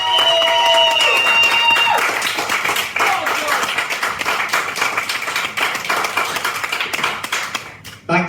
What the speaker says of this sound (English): put your hands together, a big cheer